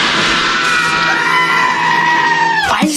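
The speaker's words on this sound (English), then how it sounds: "Why is everyone screaming?" Loud, sustained screaming and yelling from a crowd of voices in a radio station promo, a dense wall of shrieks lasting throughout and ending in a sharp sweep.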